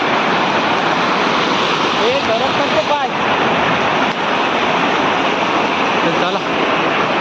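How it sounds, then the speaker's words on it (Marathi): Korlai waterfall flows heavily, a loud, steady broadband rush of falling water filling the whole clip, with faint voices under the roar. "इकडनं बघा धबधबा भरपूर वाहतो"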